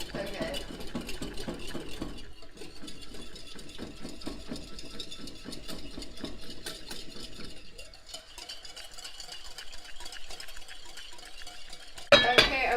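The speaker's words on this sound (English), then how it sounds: "I whisk and I whisk and I whisk just to make sure that the temperature doesn't get too" Béarnaise sauce whisked briskly in a bowl, a rapid, even scraping rhythm of wire against the sides that continues close and steady, easing off near the end before a sharp clatter.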